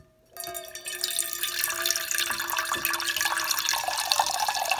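Water runs from a tap to refill a container for a homemade sinus cold remedy. It starts abruptly after a moment of silence, then flows steadily and loudly to the end.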